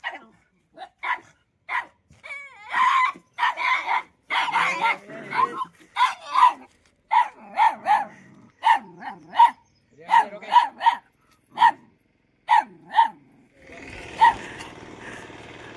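Dogs in a street fight bark, yip and snarl in rapid, irregular bursts, close and fairly loud, with short gaps between volleys and a noisy scuffle at the end.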